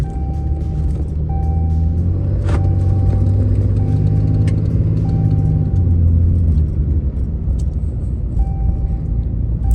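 A truck engine with a newly installed Banks Monster Ram intake idles cold while warming up, a loud, close, steady low rumble with a few light clicks and no talking.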